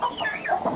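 A hen clucks in agitated, close bursts inside a hen house while a fox attacks, the calls rising and falling without pause.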